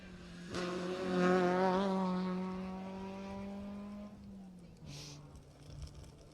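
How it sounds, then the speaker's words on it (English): A rally car's engine screams past close by at the 2018 Jersey Rally, its pitch sliding steadily downward as it goes, followed by a brief rush of noise as it recedes. "Can definitely hear some cars coming now."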